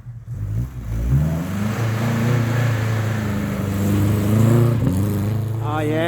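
Car engine revving and accelerating as the car pulls away after a compressor oil change, a loud, steady mid-pitched drone that rises in pitch, heard from inside the vehicle.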